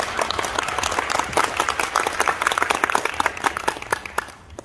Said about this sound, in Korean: 크게 박수를 드리도록 하겠습니다